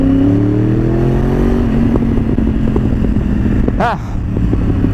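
A Yamaha R1 1000cc motorcycle engine idles and revs briefly near the start, then settles into a rough, throbbing idle with a short rattling clatter near the end.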